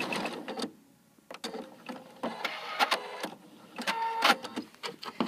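A sewing machine stitches quilt binding at the edge and corner of a quilt, producing short rhythmic mechanical bursts and a faster whirring run, close and moderately quiet, with no one speaking.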